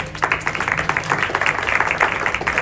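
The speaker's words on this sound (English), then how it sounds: "Nice round of applause." A small crowd at a trade show booth applauds, a steady patter of many hands clapping close by, fairly loud over a low hum of the show floor.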